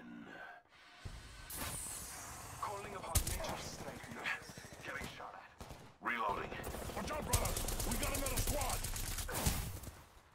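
Video game gunfire crackling in sustained rapid bursts, fairly dense, with an in-game voice calling out between volleys.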